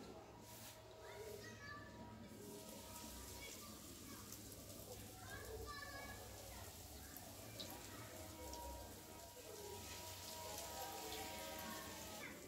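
Potato cutlets fry in hot oil with a steady, close, crackling sizzle throughout, and a voice speaks over it.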